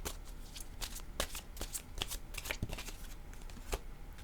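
Cards being shuffled during a tarot-style card reading, a close series of crisp riffling flutters and soft slaps in irregular bursts, with no talking over them.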